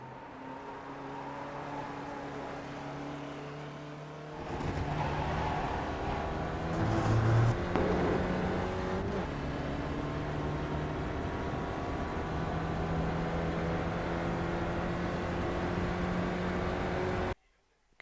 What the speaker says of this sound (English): here is a lap guide of the Oulton Park Fosters circuit in the Spec Racer Ford